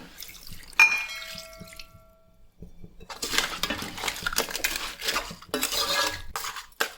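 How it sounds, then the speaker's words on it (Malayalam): Water poured into a pan of crab masala makes a steady, fairly close sizzling splash that runs for several seconds after a brief metallic clink and pause. "കുറച്ച് വെള്ളം ഒഴിച്ച് കൊടുക്കാം"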